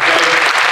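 Audience applause for a panel of women at the close of an online safety Q&A session, a steady, dense wash of clapping that stays loud and even throughout the short burst.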